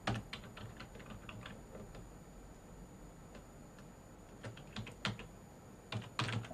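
Typing on a Dell computer keyboard while writing a web novel: quick bursts of crisp key clicks come in uneven runs, pause, then pick up again, close and fairly quiet, with no voices.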